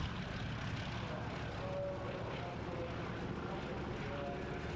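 A vintage Fairey Swordfish biplane with a piston engine flies at the 1998 Duxford Flying Legends air show, a steady, distant propeller drone that holds throughout, with a voice talking over it.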